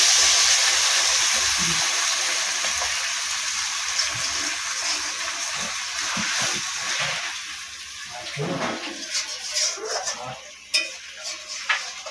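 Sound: water being added to fish curry in a pan

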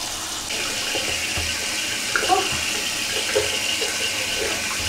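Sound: water running while rinsing out hair

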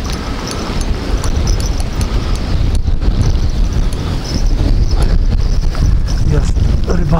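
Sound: wind

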